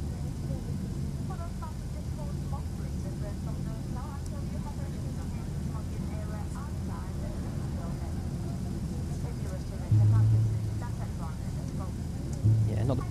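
A Ryanair Boeing 737-800 taxiing to the gate with a steady low engine drone heard from inside. A voice talks over it throughout, and there are a couple of brief low thumps near the end.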